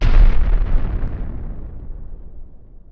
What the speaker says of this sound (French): tu mets des explosions partout